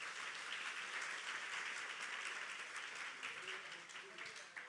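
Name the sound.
congregation applauding in church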